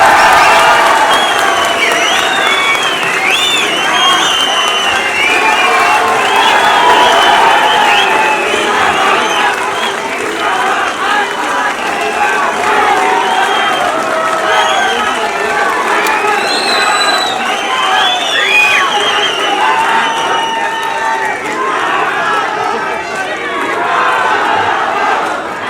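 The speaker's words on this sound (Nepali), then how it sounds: "उहाँको सम्मानमा सबै साथीहरूले ताली बजाए।" Large crowd applauding and cheering steadily for the arriving prime minister at a party gathering, with shouts and whistles rising over continuous dense clapping throughout.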